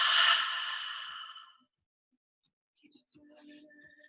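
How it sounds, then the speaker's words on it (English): A single long, breathy exhale out through the mouth during a yoga class, loud at first and trailing off over about a second and a half, followed by silence and then faint background noises. "Exhale out of your mouth."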